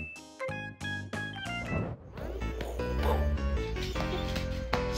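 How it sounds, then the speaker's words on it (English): Small yips and bow-wow barks from a dog trying to protect a baby while the mother burps it, mixed with busy household noise and voices. "This dog thinks she's protecting the baby from being hit"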